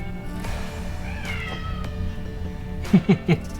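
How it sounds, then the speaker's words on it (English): An orange cat gives three short, whiny meows in quick succession near the end, after a stretch of quiet background noise with faint rustling. "you might be able to hear the cat whining in the background"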